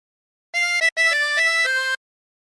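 A 20-hole tremolo harmonica plays a short phrase of Bella Ciao: a few bright, wavering reedy notes in a smooth run with one brief breath gap, close and clear.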